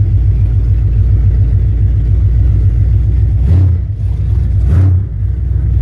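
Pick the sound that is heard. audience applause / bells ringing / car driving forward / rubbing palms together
car driving forward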